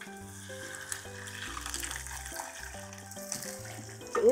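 Two cut red snapper fish fry in a pan for a sweet and sour dish, giving a soft steady sizzle beneath stepping background music that swells briefly at the end.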